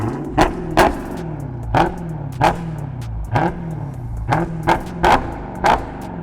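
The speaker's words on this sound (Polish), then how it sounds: "ten Charger jest trochę dubnięty, jeśli chodzi o wydech, ale Posłuchajcie sobie, jak brzmi." Modified exhaust on a Dodge Charger barks through a series of sharp, loud revs, about ten blips with the engine note falling back between each, close by and with no talking.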